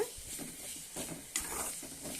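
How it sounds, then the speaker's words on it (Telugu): Oil sizzles steadily with ginger-garlic paste frying in a pan, broken by a few scraping stirs of a spoon; no voices. "అల్లం వెల్లుల్లి పేస్ట్ కొంచెం ఆయిల్లోని ఫ్రై అయితే బాగుంటుంది"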